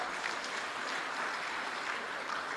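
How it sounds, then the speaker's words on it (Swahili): Steady applause from a large audience at a formal Tanzanian state ceremony, dense continuous clapping held at an even level throughout without a break. "Makofi tena kwa LATRA."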